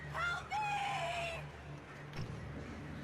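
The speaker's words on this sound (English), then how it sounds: "The goddamn birds." Shrill, wavering bird screeches from attacking birds in the video game Alan Wake, two drawn-out sliding cries early on followed by a fainter squawk over a low steady hum.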